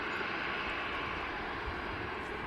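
Ryanair airliner taxiing on a very wet taxiway, a steady broadband jet engine roar that holds constant and fairly distant throughout, with no voices.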